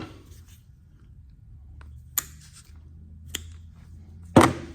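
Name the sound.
cutting a rope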